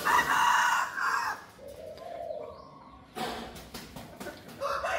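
A rooster crows twice at a rural backyard in Vietnam's Mekong Delta region where chickens are kept, each crow loud and close with a drawn-out, wavering call and a quieter gap between them.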